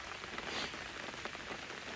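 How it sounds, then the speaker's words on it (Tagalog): Steady rain falls outdoors near a red maple tree, a dense, even hiss of drops pattering on surfaces, continuous and moderately close with no voices. "So maghapon pong ulan ngayon."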